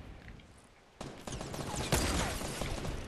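Gunfire in the Fortnite video game erupts in a loud, dense burst of overlapping shots after a quieter opening second, with several sharp cracks and a sustained volley continuing to the end, no talk over it.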